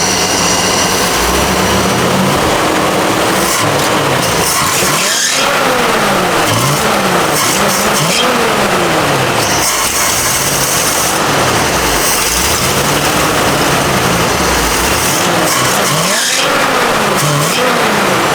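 A 1956 Chevy wagon engine, left sitting in a shed for years with a dirty carburettor, is revved hard repeatedly: loud, close roaring surges that climb and drop in pitch several times.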